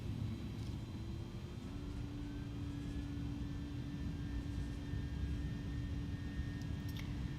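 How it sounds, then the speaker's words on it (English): Airliner engines hum steadily as an inibuilds A310 taxis in Microsoft Flight Simulator, a constant low drone with a faint rising whine tone and no talk. "we're probably going to be taxiing a bit fast"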